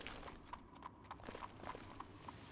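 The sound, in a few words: horse hooves clip-clopping in video game Oblivion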